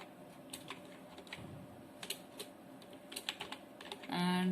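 Someone types on a computer keyboard in an irregular run of close, light key clicks, finishing with a brief louder tone.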